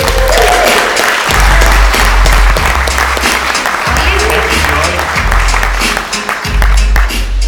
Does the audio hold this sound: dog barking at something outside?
no